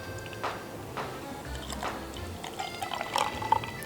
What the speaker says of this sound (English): Why am I pouring it like a beer, like it's gonna have head?